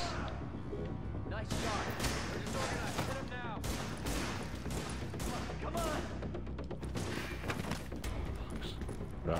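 Gunfire in the video game The Division while shooting objects off a desk, dense continuous bursts of shots with impacts and debris over a loud, busy game mix, with talking over it.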